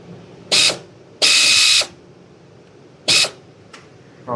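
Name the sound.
ratchet removing 10 mm bolt during Genesis G70 water pump replacement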